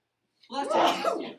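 A single close sneeze bursts out after a moment of silence.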